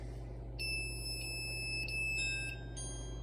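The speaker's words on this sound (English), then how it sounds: "we'll hear both the beautiful chime and the wretched buzzer" A harsh electronic doorbell buzzer sounds in several short bursts, shrill and tonal, over a steady low hum with no talking.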